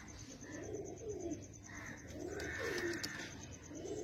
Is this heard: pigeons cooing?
yes